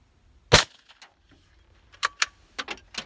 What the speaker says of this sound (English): 17 HMR out of this beautiful Savage 93R17. I'm going to shoot for that left side.